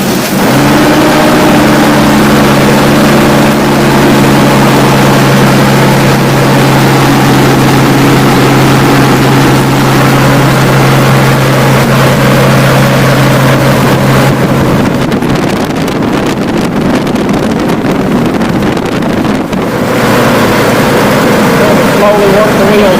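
A 2002 Chevrolet Trailblazer engine idles during a power steering bleed after pump replacement, a loud, steady, close drone with a low whine that shifts and roughens partway through, with wind-like noise on the microphone.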